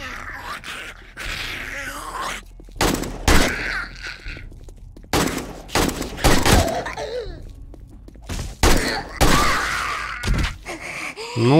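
Several sharp, loud gunshot-like bursts go off at irregular intervals in the video game 7 Days to Die, with groaning zombie moans and thuds between the shots.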